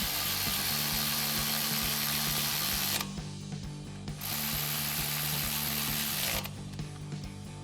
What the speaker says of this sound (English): tighten these back down with our 8 and 10mm sockets on our ratchet